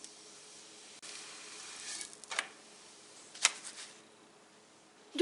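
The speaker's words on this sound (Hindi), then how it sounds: "अगर आपने ऑयल लगा के इसको पकाना है तो हल्का सा ऑयल लगा के इसको पका लें।" Light sizzle of a tortilla for potato tacos cooking in a little oil in a pan, with a few brief louder crackles and soft handling clicks over a steady low hiss.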